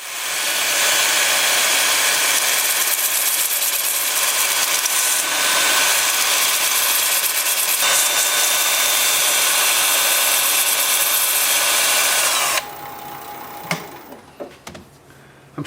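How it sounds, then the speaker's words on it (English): A wooden vase spins on a lathe while being sanded at 80 grit, giving a steady loud whirring hiss that runs about twelve seconds, then the motor winds down into quieter clicks and handling noises. "I'm starting the sanding at 80 grit."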